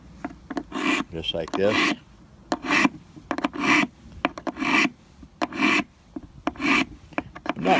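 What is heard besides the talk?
filing a V-notch edge on an old knife blade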